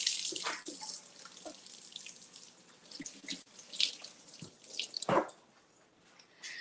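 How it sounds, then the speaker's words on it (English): A tomato rinsed under a running kitchen tap, water splashing irregularly into the sink with small bursts and drips, fairly quiet and close, no talking. "let me give this a rinse"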